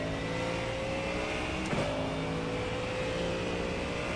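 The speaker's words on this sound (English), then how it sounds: "Those cold brakes make a lot of noise." A Mustang GT3 race car on cold brakes produces a sustained droning whine with steady tones and a brief sharp squeal in the middle, loud and continuous throughout without any voices.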